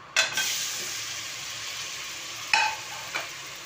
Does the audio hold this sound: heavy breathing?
no